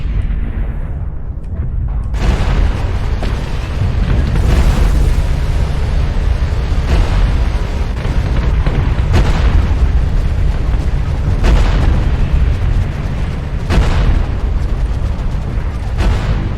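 Mechs being destroyed in the video game MechWarrior Online, a loud continuous barrage of heavy booming explosions and rumbling weapon fire. Repeated blasts roll one into the next and the battle noise stays dense from start to finish.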